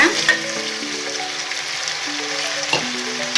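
Capsicum frying in hot oil in a pan for a Karnataka-style palya, a steady close sizzle with a couple of light stirring scrapes, no voices.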